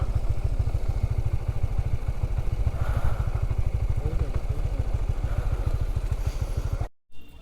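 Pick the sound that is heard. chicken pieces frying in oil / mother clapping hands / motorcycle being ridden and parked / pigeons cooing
motorcycle being ridden and parked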